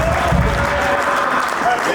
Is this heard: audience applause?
yes